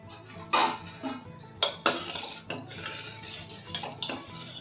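A metal lid lifted off a cooking pot of vegetable sabji side dish, giving a few sharp clinks and clatters of metal on metal, close and fairly loud, with no talk.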